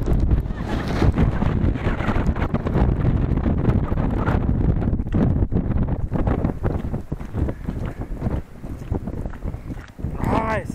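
Strong wind roars and buffets the microphone high on a mountain near the Martial Glacier outside Ushuaia, a loud, continuous rushing that dips briefly toward the end, with voices talking underneath.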